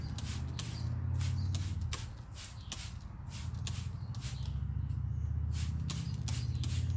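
A trigger spray bottle of Adams Tire and Wheel cleaner fires a quick series of short, hissing bursts at a fairly regular pace over a low background rumble.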